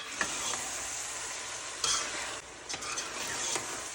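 Curry paste and meat stirred together in a hot frying pan, giving a steady loud sizzle broken by scraping stirs, with no talking.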